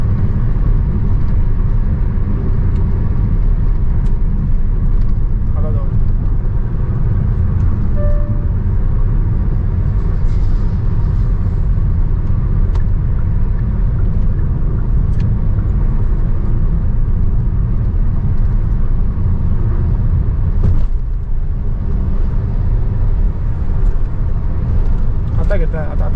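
An automatic car cruises along a highway between Goa and Malvan, giving a continuous, loud road and engine rumble throughout, with a person talking over it.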